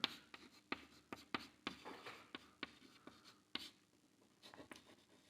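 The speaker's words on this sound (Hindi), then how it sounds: "तो अपन लिखते हैं कि राम" A pen writes on paper, close and very quiet, with soft scratchy strokes broken by small taps in an irregular rhythm.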